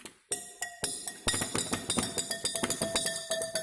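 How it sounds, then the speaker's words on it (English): A clean teaspoon stirs water in a laboratory glass before a titration, ringing out in a quick run of bright, close clinks against the glass after a brief pause. "we're going to stir with a clean teaspoon"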